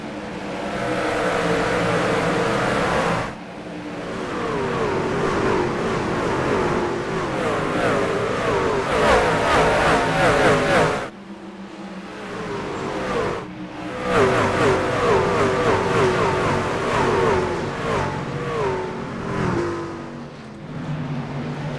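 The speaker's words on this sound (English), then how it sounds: "We're going to go ahead and bring it on back to Barney in the flag stand and see how this restart goes" Race trucks in the iRacing truck series at Bristol accelerating on a restart, a dense continuous roar of multiple engines revving and shifting, loud and sustained with a brief dip in the middle.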